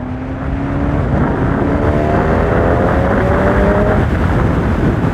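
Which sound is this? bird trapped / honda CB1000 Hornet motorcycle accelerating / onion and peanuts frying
honda CB1000 Hornet motorcycle accelerating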